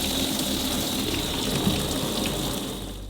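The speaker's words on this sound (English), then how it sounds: "Let's fill this container with water." Water pours steadily into a container, a continuous hissing, splashing rush that stays close and even before easing off slightly at the end.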